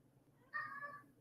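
A cat gives a single short meow, clear and mid-distance, rising out of a quiet room with faint background hum and no talking.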